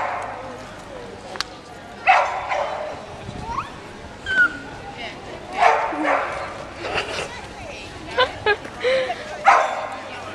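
Dogs barking and yipping in several short bursts spread across the clip, fairly close. Voices are heard between and under the barks.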